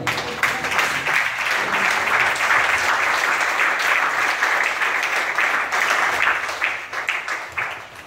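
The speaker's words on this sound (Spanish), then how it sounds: "Y dele aplauso al Señor" A church congregation applauds during a sermon, a thick, continuous roar of many hands clapping that holds steady and loud before easing slightly at the end.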